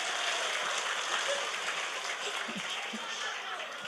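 Audience applause at an Islamic sermon, a steady broadband wash of many hands clapping that holds at an even, moderate level throughout.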